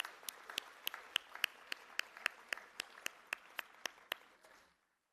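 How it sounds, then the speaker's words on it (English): Applause at a Bharatanatyam arangetram dance recital, sparse and unsynchronised, with distinct individual claps standing out over a softer wash of clapping before it fades out and stops. "Can we all have a huge round of applause again for Aditi?"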